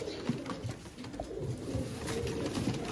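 A loft of about seventy pigeons kept in pairs coos steadily in soft, low, overlapping calls that carry a continuous murmur throughout.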